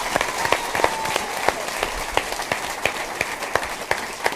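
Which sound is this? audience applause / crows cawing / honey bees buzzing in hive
audience applause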